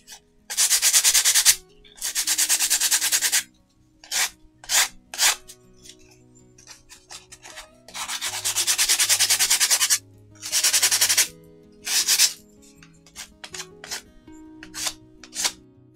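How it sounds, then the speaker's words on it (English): Sandpaper rubbed by hand over a glass bottle for an industrial-themed craft, heard as repeated bursts of harsh rasping strokes, some long and steady, others short and quick, close up with brief pauses between and no talking. "Let's just take the sandpaper. That's all it is, bit of sandpaper. The bottle."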